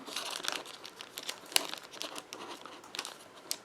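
A One Piece card game booster pack wrapper is torn open by hand with no scissors, a close, continuous crinkling and crackling of foil plastic lasting a few seconds with sharp snaps.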